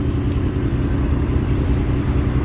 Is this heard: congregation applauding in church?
no